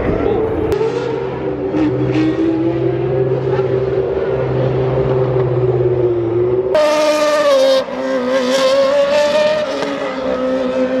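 A McLaren car at an indoor motor festival, its engine a close steady drone that suddenly rises into a louder, brighter revving roar partway through, over crowd hubbub.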